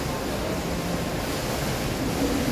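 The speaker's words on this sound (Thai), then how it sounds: "ตอนนี้ก็จะเป็นน้ำตกนะท่านผู้ชมน้ำตกกลางห้าง ไอคอนสยาม" Water from an indoor waterfall inside the ICONSIAM shopping mall pours continuously in a steady, broad rushing wash, even and unbroken, heard from nearby with no clear voices over it.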